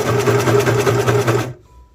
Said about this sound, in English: my serger machine is good to go